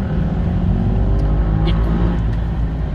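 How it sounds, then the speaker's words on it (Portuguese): A loud motorcycle passes nearby, its engine producing a thick, rumbling drone that holds steady and strong across the whole moment with a slight rise and fall. "É moto zoadenta da porra."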